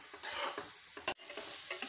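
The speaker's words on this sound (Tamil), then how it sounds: "நான் 1 ஃபோர்க் வச்சு கலக்கிறேன், அது போல் கலந்துட்டுங்க." Veg noodles tossed in a pan with a fork give soft scraping stirs over a faint sizzle, punctuated by one sharp metallic clink near the middle; fairly quiet and close, with no voices.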